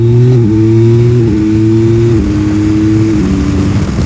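A 2021 Yamaha Tracer 9 GT three-cylinder motorcycle engine runs loud and steady, with several quickshifter gear changes heard as brief dips and jumps in its humming pitch, no clutch used.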